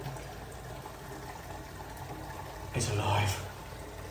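Water rushing through newly pressurized household water lines, heard as a short, loud hissing surge near the end after someone speaks briefly.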